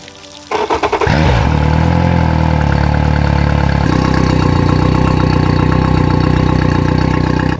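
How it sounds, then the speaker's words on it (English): A boat outboard motor running on flush muffs starts up with a few sputtering catches, then settles into a steady, loud, close idle with a slight shift in tone midway, no talk. "I'm going to let that idle for a couple minutes until that tube on the bottom of the musket is clear"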